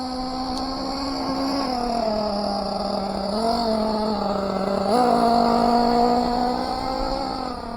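A Team Associated MGT RC monster truck runs at half throttle, its electric motor giving a steady high whine that rises and dips slightly with throttle changes, loud and close with no talking.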